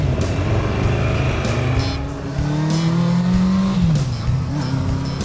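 A car accelerates hard and pulls away at speed, its engine note rising loudly through the gears as it drives off, close by and with no talk over it.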